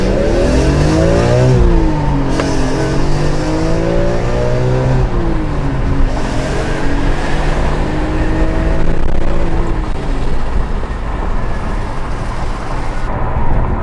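A BMW E46 M3 with SMG gearbox accelerates hard on a wet road, its engine note climbing steeply through repeated rising sweeps with short dips at the shifts, loud and close throughout.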